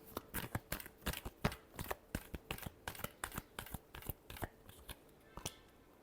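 Tarot cards being shuffled by hand in a quiet room make a quick series of soft, crisp riffling clicks and snaps, irregular but steady across several seconds, with no voices.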